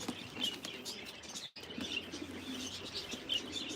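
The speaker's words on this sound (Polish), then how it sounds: "Można zobaczyć, tu jest piękny gołąb," Breeding pigeons from a Polish champion's loft, cooing and chirping nearby over a busy background of wing movement and rustling, with a momentary drop in sound partway through.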